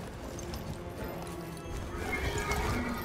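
A horse in the game Warframe: The Duviri Paradox gallops with a steady, fairly quiet clip-clop of hooves, and whinnies mix in as the sound grows slightly louder toward the end.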